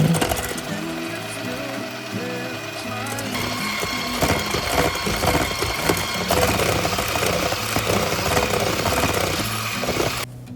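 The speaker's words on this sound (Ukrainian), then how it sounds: "висипаємо до жовтків і збиваємо їх до посвітління" Egg yolks are whisked with sugar and vanilla sugar by an electric mixer, a steady loud mechanical whir running through the whole stretch with some clinking of beaters against the bowl.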